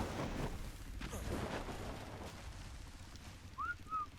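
A player's whistle command in the video game ARK sounds as two short rising-falling whistle chirps near the end, faint over a dense rumbling game soundscape.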